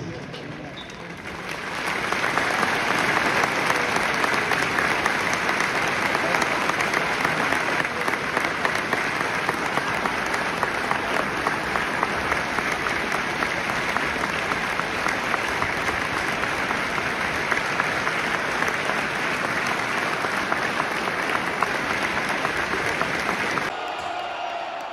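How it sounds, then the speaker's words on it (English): A football stadium crowd at a QPR versus Sheffield United match applauds in tribute, a sustained, loud roar of clapping that swells in after a couple of seconds and holds for about twenty seconds before cutting off. "A period of applause will begin and end on the referee's whistle."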